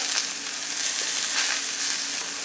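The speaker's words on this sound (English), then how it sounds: "while our tuna finishes cooking" Tuna frying in a pan, a steady bright sizzle with crackling spits, close and continuous with no voices.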